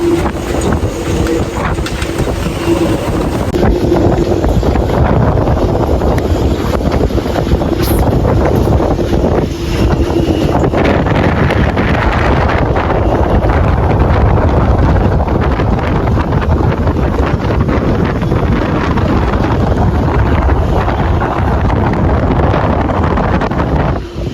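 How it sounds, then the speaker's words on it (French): Gale-force wind of about 35 knots, gusting past 50, roars steadily around a catamaran moored in a marina, buffeting the microphone with loud, continuous rumbling gusts and no talking. "Et puis le vent ne baisse pas quoi."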